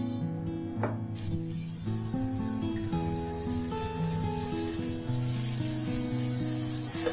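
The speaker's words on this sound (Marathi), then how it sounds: "आता आपण हे जे खरबूजचे बारीक क्यूब्स करून ठेवले होते ना ते थोडेसे फ्राय करून घेणार आहोत।" Small cubes of muskmelon fry in a pan with a little sugar, giving a soft, steady sizzle that runs under quiet background music.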